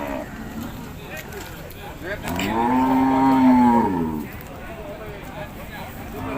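Cattle at the Yasothon cattle and buffalo market in Thailand, one long, loud moo rising and falling over about two seconds, set against the busy murmur of the market with people talking nearby.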